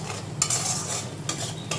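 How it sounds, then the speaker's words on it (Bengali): Fried potatoes being stirred and sautéed in a pan with prawn malai curry ingredients: a soft continuous sizzle broken by three quick scraping stir strokes of a utensil against the pan. "এবার আমি এই যে আলুটা ভেজে রেখেছিলাম আলুটাও দিয়ে দিচ্ছি, দিয়ে একটু ভালো করে কষিয়ে নেব"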